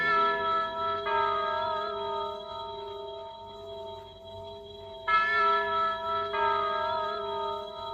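Sustained bell tones ring out with long decaying overtones, two distinct strikes about four seconds apart, resonant and moderately faint, in the style of an antique clock's chime.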